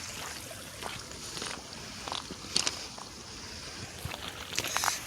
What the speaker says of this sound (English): Water stream. Sounds pretty cool.